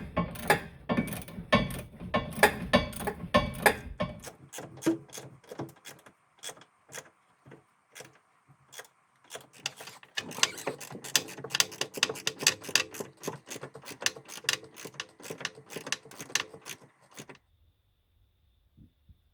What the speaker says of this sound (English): we'll get the wrenches out and tighten everything up and torque it to spec